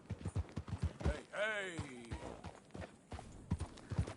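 Horse hooves clip-clop at a steady trot in Red Dead Redemption 2, sounding close and rhythmic under a voice that calls out and other voices talking over the ride.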